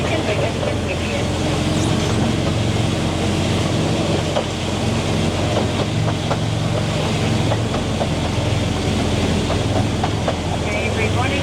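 The Driving Creek Railway train in Coromandel, New Zealand, runs along its tracks with a steady, loud, close rumble and rhythmic clatter that continues unbroken throughout.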